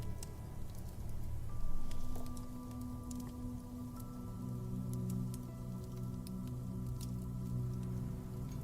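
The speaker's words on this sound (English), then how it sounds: "A fountain gurgles softly nearby." A fountain fed by mountain springs gurgles softly nearby, gentle trickling and dripping water in a faint, steady patter, with no one speaking.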